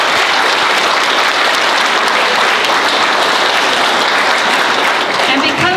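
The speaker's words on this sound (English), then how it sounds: "I think we should give a round of applause to all of our artists as a whole" Dense, steady applause from an audience at an art show awards event, many hands clapping together at full volume for the whole stretch with no break.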